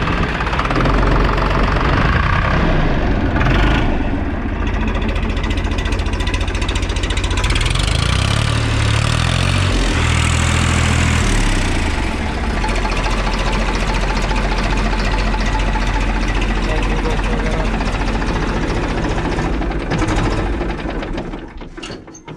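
A 1996 Escort 355 antique tractor engine runs steadily and loud close by, a dense knocking rumble that holds throughout with no talk over it.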